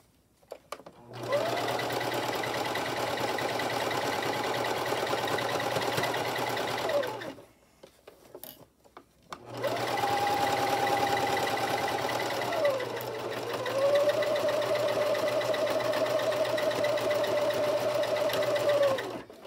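A sewing machine locks threads along the edge of an 18-inch doll dress, running in two long, steady, close bursts of motor whir separated by a short pause.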